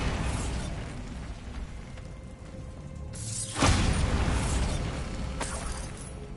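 A Bombarda blast spell goes off in the Hogwarts Legacy video game: a sudden loud burst partway through, breaking over steady background game noise, followed by a lingering rumble.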